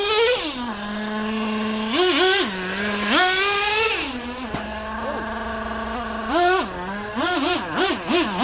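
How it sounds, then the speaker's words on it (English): A truck engine idles steadily and then revs up and down in repeated bursts, with some short, quick blips. The engine is close and loud, and no voices are heard. "This truck's running good."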